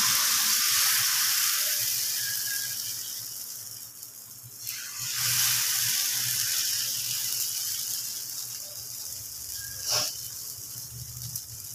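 Rice-flour batter sizzles and hisses steadily in a hot frying pan, a broad close crackle that swells around the middle and carries on alone with no talking.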